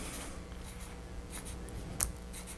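A pen writes a number on paper with faint, quick scratches and a single sharper tap near the end, heard alone with no talking.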